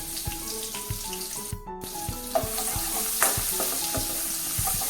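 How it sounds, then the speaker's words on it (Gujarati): Chopped onion sautéing in hot oil with crackling cumin seeds and asafoetida in a home kitchen pan: a close, continuous sizzle with occasional stirring scrapes and small pops, and no voices. "ડુંગળીને તેલમાં આપણે સાંતળીએ"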